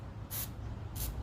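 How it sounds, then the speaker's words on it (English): An aerosol can of snow flocking spray is aimed at a reindeer holiday centerpiece, giving two short hissing bursts close by with a pause between them. "then I go back with the snow spray and I gently"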